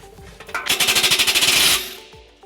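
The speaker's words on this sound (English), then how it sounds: "we're going to loosen up this clamp right here using a 15mm socket" A ratcheting socket wrench with a 15mm socket loosens a muffler clamp under a 2015 Nissan Altima, giving a fast, close burst of rapid clicks lasting about a second before fading.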